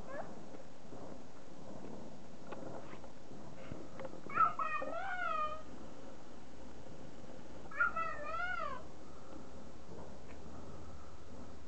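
A domestic cat meows twice, several seconds apart. Each call is a distinct, drawn-out meow with a rising and falling pitch, heard over a low background hiss with no talking.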